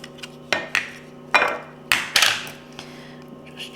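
A knife chopping hard-boiled egg on a board while making football-shaped deviled eggs gives several sharp, close knocks, some single and some in quick pairs, at an uneven pace with no talking.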